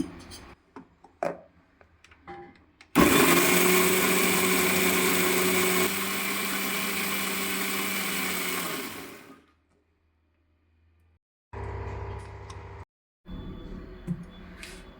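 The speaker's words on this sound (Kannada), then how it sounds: "ಈ ಮೂರು ಸ್ಪೂನ್ ಹಾಕಿ ರುಬ್ತಾ ಇದ್ದೀನಿ" An electric mixer grinder whirs loudly as it purees brahmi leaves with curd into a thambuli chutney, running steadily for several seconds, dropping to a lower hum, stopping, then giving two short bursts.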